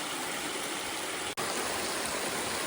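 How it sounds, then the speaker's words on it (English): A babbling brook runs over the River Derwent riverbed along a pretty path under overhanging trees, giving a steady, full rushing of water that continues without a break apart from one tiny dropout. "a babbling brook on the riverbed of the River Derwent with the overhung trees on a very pretty path"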